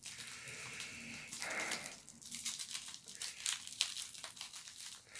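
Plastic packaging on a Mattel Disney Cars Mini Racers toy is crinkled and torn open in quick bursts, near and quiet, with bright rustling that rises and falls and no talking.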